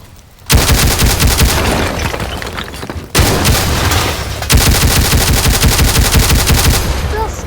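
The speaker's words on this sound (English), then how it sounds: "Just explode the whole building" Explosions and dense gunfire tear apart a building in the voxel game Teardown, a loud sustained barrage of rapid shots and booms that cuts out briefly and then resumes.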